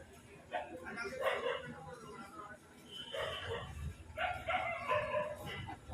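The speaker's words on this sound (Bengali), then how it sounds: "রাত্রিবেলা হচ্ছে কুকুরদের তাণ্ডব" Dogs bark and yelp in bursts at night at a moderate distance, mixed with people talking nearby in an open outdoor market setting.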